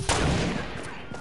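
Gunfire in a PS4 video game, a dense burst of rapid shots at the start that rings out and fades under continuous game noise, with faint voices.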